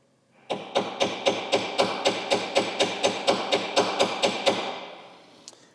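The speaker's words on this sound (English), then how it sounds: "let me grab a drift, we'll loosen this nut up" Steady, evenly spaced metallic hammer blows on a drift, about fifteen sharp close strikes in a row, used to loosen a nut on a Harley-Davidson Dyna motorcycle, then a short fade and one faint final tap.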